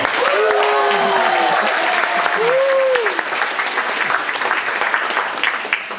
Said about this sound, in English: Please give a round of applause for them as well.